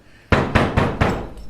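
Four loud, sharp knocks on a door, evenly spaced and close, ringing out alone with no talk over them.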